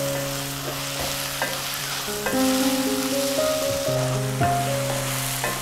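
Coconut pieces, garlic and onion sauté in a pan, giving a steady close sizzle broken by repeated stirring clinks and scrapes of a spoon.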